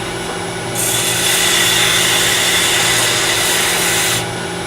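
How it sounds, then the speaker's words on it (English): A sanding stick rubs across a miniature vase in a close, steady scratchy stroke lasting about three seconds, with no talking. "Now, the sanding stick."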